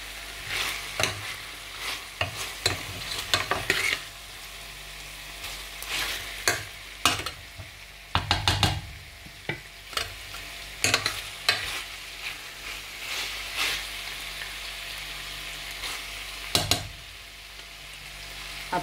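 Chicken and mushrooms fry in a pan under a steady sizzle, while a utensil stirs with irregular scraping and clattering strokes, close up and with no voices.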